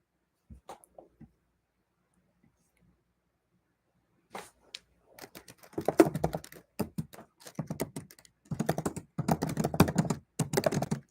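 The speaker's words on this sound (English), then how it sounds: "I'm like typing in the chat." A few isolated clicks, a pause of near silence, then rapid bursts of computer keyboard typing, close and fairly loud.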